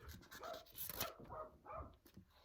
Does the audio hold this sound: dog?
yes